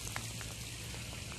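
Hail falls outdoors beside a barrel, a faint continuous pattering hiss with scattered small ticks, under a low steady hum.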